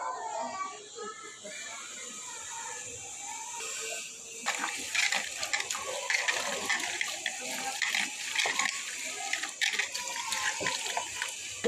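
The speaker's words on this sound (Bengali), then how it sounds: "আর একটু ভালো করে ডলে ডলে ধুবো" Water running and splashing as pieces of cut rohu fish are rubbed and washed, starting quieter and turning into a steady, louder rush of water with brief clatters, with faint talk underneath.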